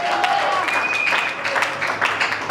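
Congregation at a Sunday church service applauding with some cheering, a dense burst of clapping and high voices that stays close and steady throughout.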